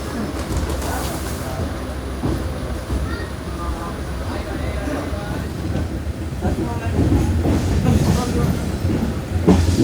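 Unreserved general coach of the 12134 Mangaluru Mumbai Superfast Express rolling out of Suratkal, a steady loud rumble of wheels and carriage noise with faint clatter throughout, passengers' voices mixed in.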